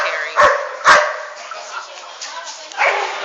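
A scared dog barks twice in quick sharp bursts, then yelps and whimpers more softly, close and loud against a noisy background.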